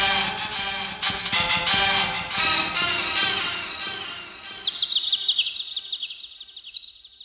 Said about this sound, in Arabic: عصافير.